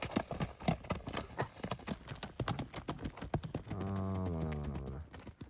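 A horse gallops close by, with loud, rapid hoofbeats in a quick drumming rhythm, followed by a horse's neigh near the end.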